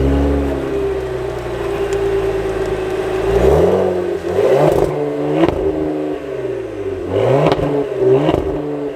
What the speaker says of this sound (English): we have to talk about the quad exhaust system and hear what it sounds like.